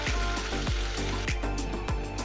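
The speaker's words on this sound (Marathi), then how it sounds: "आता मी टाकत आहे मिठाचं पाणी।" Salted water hitting hot oil where potato chips are frying, a dense crackling sizzle with repeated bubbling bursts and spatters, loud and close throughout.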